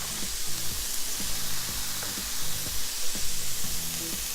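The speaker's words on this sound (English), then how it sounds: "Now we're gonna crush the garlic" Crushed garlic hitting a hot pan during a chicken and vegetable ravioli cook, a steady close sizzle and hiss with faint soft music running underneath.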